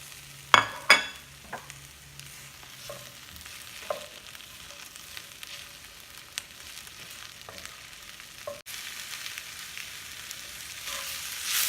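Red peppers tossed into a pan of onions frying in a home kitchen give a few sharp clattering hits up front, then a steady low sizzle with occasional stirring scrapes, no voices.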